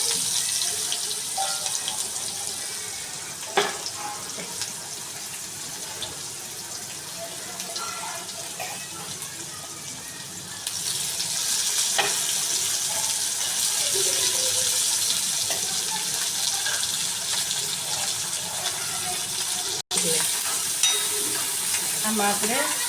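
Onions frying in a pan with cumin, asafoetida and curry leaves, stirred now and then: a steady sizzle that swells louder partway through, with scattered utensil clinks and scrapes and no talking.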